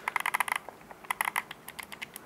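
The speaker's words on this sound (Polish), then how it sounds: "Wszystkie klawisze są klikalne, głośno klikające" Loud, clicky mechanical switch buttons on a game controller, including two extra top buttons, pressed close up in quick bursts of sharp clicks with short pauses between groups.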